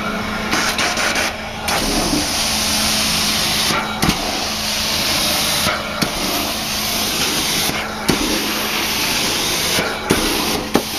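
An Amtex Inferno 2045 hot water cleaner sprays continuously with a loud steady hiss, broken by brief rhythmic pauses and clicks as the spray is cycled.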